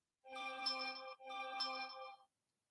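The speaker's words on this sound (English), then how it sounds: "I just got my 2 notifications for Wolverine Transparency and Wolverine Cop Watch." A phone notification tone plays twice, a bright ringing chime of two roughly one-second bursts with a tiny gap, clear and close in an otherwise quiet room.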